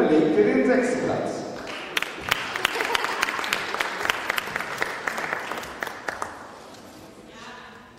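An audience at a youth sports awards ceremony in Schwerin claps, the sound swelling and then fading, with a few sharp individual claps standing out as it dies away; a voice is heard near the start.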